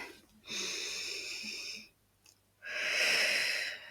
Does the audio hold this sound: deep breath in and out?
yes